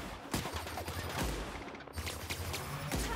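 A plasma rifle in The Outer Worlds fires a rapid string of sharp shots, quick irregular bursts close and punchy over a low background rumble.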